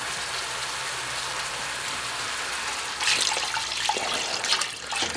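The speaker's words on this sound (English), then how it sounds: "I'm going to add water." Water is poured into a pan holding chicken and softened onions for a chicken noodle casserole, a splashing stream starting about halfway through and running on steadily under a low kitchen hum.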